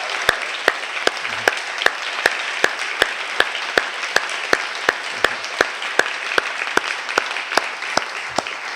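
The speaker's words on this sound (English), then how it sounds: "but Tom, you got to stand and just let us applaud you and all this." An audience at a panel event on a major stained-glass art installation applauds with steady, dense clapping that holds at an even level throughout, punctuated by regular sharp clicks.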